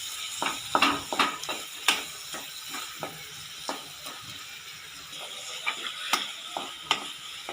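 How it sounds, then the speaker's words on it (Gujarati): A spoon stirs and scrapes a dabeli filling of mashed potatoes, peanuts and dabeli masala in a pan, making irregular clinks and scraping taps over a faint background hiss, with no talking. "બધી વસ્તુને સરસ રીતે મિક્સ કરી લઈશું।"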